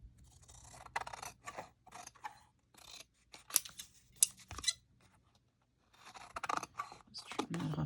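Scissors trim a paper scrap for a Christmas card, several short snips and cuts spread through the moment, close and fairly quiet, with speech around them.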